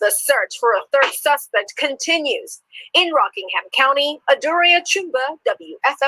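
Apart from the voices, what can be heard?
No distinct noise like a dog, phone or traffic.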